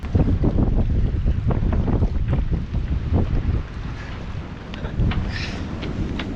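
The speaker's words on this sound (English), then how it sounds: "it's like gust after gust in here" Strong wind gusts batter the deck of a sailboat, a loud, continuous roar of buffeting wind noise swelling and easing in waves with rattling and flapping underneath, no voices.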